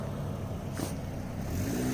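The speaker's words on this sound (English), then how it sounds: "Car distracting me." A car passes on a nearby road, a brief whooshing swell in the middle over a steady low traffic rumble.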